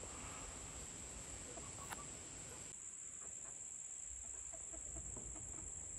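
Australorp chickens cluck softly in the background over a steady high insect-like drone, with scattered short calls and no talking.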